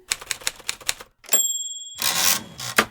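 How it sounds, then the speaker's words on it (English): Quick bursts of manual typewriter keys clacking, a bell ding, then the rasping sweep of the carriage return, loud and close. "when manual typewriters first came on the scene."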